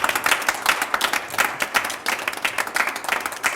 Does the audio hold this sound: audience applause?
yes